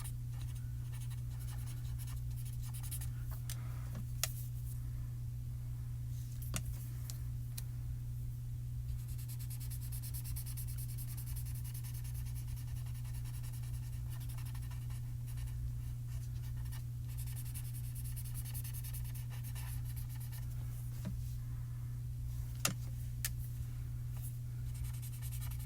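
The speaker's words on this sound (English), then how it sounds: "color pencils are very easy to color with, very easy to blend" Colored pencils scratch and rub continuously on paper at close range, a soft, even scraping over a low steady hum, with a few faint clicks.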